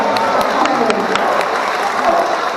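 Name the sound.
audience applause for sea lion show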